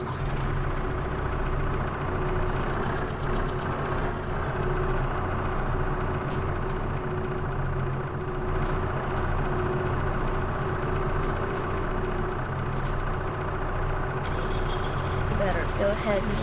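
A truck engine in Farming Simulator 22 rumbles steadily while pulling a trailer on a landscaping job, a constant low drone with faint higher clicks and someone talking over it.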